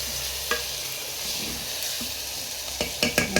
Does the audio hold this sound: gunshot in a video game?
no